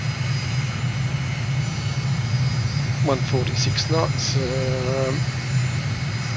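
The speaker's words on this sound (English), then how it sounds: "The engine's at full idle." A jet engine idles steadily during a landing approach in Microsoft Flight Simulator, a continuous broadband drone and low hum that lasts throughout while a brief spoken callout sounds over it.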